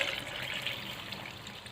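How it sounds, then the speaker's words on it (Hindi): Water pours into a peach drink mixture in a kitchen, a faint, steady trickling splash lasting under two seconds. "अब मैं इसमें डाल रही हूँ पानी।"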